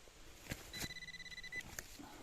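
A metal detector gives a thin sustained electronic tone during a dig in Lower Silesia, Poland. The short steady beep sits over faint rustling and light footsteps.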